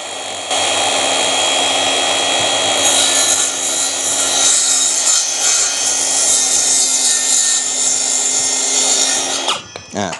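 A power saw cuts wood freehand while building a small pet house: one loud, continuous whine that holds for about nine seconds and then cuts off with a brief clatter.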